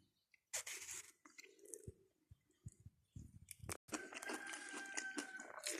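A sweet, still-green Vinnytsia peach is sliced and bitten, giving soft knife cuts, wet crunchy bites and close chewing, with irregular crisp clicks and a dense crunching stretch near the end.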